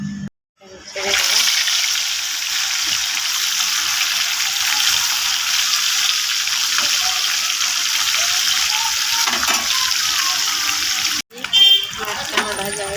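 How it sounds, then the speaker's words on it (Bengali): Fish frying in hot oil for a bitter gourd, potato and egg curry, a steady bright sizzle running for about ten seconds before cutting off, with brief clatter and handling noises at the start and end. "মাছটা আমার ভাজা হয়ে গেছে, আমি এখন তুলে নেব"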